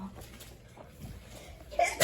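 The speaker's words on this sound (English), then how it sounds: "My man looks sick. He's sneezing." A game character lets out a quick sneeze near the end, a short sharp burst following a quiet stretch of faint background sound.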